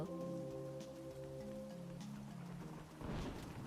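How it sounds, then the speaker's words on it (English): Rain in the video game Monster Harvest, a soft steady patter under faint sustained musical tones, with a louder wash of rain near the end. "Oh, and it's raining"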